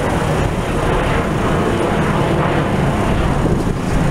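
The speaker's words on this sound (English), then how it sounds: "We're right near the airport, as you can hear. The planes are traveling everywhere." Airplanes flying near Washington National Airport in Alexandria, Virginia, with a steady broadband jet roar that stays loud and continuous throughout, mixed with outdoor traffic rumble and wind.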